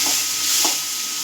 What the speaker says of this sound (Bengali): এবার এইটা আমি ভাজি করব।